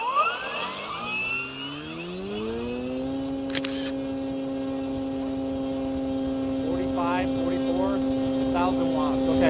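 An FMS 1400mm Pitts v2 RC plane's electric motor, running on a 25.2-volt battery, spins up over a few seconds into a steady, loud tonal whine that holds at throttle, with faint voices in the background.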